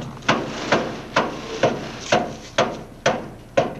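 A new hammer strikes wood about eight times in a steady, evenly spaced rhythm, each blow a sharp, close thump with no talking over it.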